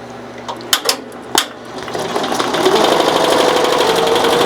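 BAi Vision embroidery machine stitching a 3D puff hat at around 800 stitches per minute, a few sharp clicks at first, then a fast, steady rattling hum that builds and holds, loud and close.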